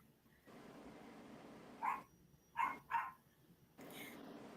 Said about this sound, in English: down there barking. I was just about to ask, is that your dog or my dog's?